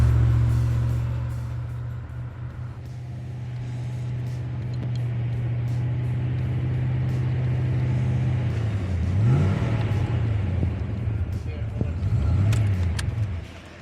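1988 HSV VL Commodore SS Group A Walkinshaw car on the move, its V8 holding a steady drone before pitch sweeps rise and fall as the driver works through gears, with talk over the top.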